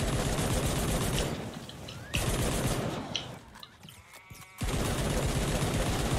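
Pistol gunshots in Fortnite Save the World, dense volleys of rapid shots over game noise, with a brief quieter gap midway before the firing resumes at full loudness.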